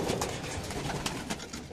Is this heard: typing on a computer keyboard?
no